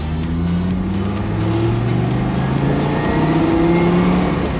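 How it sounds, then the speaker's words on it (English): A Dodge Viper V10 engine rumbling and revving, a loud, close, deep engine drone that swells and holds steady without voices. "I know a Viper coming down the road more than any other car."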